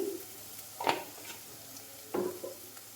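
Ground masala spices, including coriander and fenugreek powder, fry in a pan for a Kerala-style fish curry, with a low sizzle under a few scraping strokes of a stirring spoon, close and quiet.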